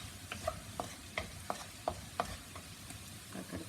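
Garlic frying in a pan for vegetable fried rice, a faint constant sizzle with regular light taps of a spoon stirring, quiet and close, no voices.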